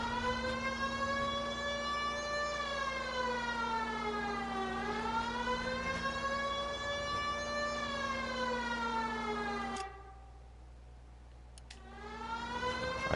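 A police car siren in the LA Noire video game wails loudly and steadily, rising and falling in slow sweeps over engine hum, cutting out briefly near the end before resuming.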